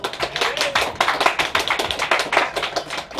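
At a live music show, people clap for a percussionist with rhythmic, evenly spaced claps that pulse in a steady beat, fairly close and crisp.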